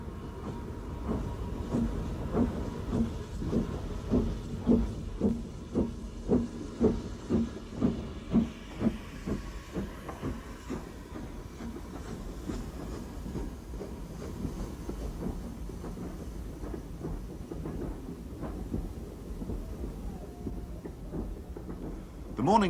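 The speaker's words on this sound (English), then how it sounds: "number 75078 leaves Bury with the first train of the day" British Railways steam locomotive 75078 leaving Bury with the first train of the day on a preserved line, heavy rhythmic exhaust beats pounding close and loud before easing into a fainter rumble and hiss, with a voice talking over it.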